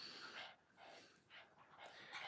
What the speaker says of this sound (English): And I got 2 pugs panting.